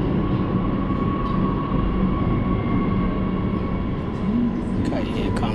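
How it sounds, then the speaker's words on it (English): A Gautrain commuter train pulls into a station in South Africa, a loud steady roar of wheels and motor with a rising electric whine, heard close and continuous on the platform. "here comes the train"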